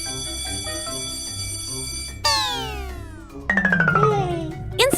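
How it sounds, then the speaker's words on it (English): Peppa Pig cartoon doorbell chimes ring out over background music, first a descending cascade of tones, then a second brighter ringing sequence near the end. "Outside, Daddy Pig presses the doorbell again"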